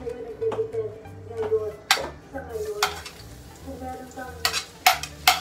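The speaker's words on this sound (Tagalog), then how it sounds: "Gisa-gisa lang yan." Garlic, onion and tomato being stirred and sautéed in a pan for squid adobo, with steady sizzling, a spoon clinking against the pan now and then, and a person talking over the cooking.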